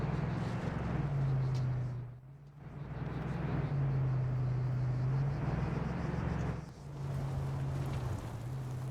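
A car engine drones while driving in the video game Arma 3. The low hum rises and falls in pitch with a couple of brief dips, like gear changes, and it stays steady and fairly quiet.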